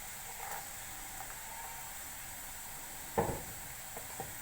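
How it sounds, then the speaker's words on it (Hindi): Chopped onions sautéing in a pan for a bitter gourd curry, giving a soft steady sizzle with a few stirring scrapes and clatters, quiet and without speech. "थोड़ा सा सौते करेंगे।"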